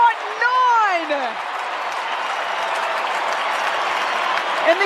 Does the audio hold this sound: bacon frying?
no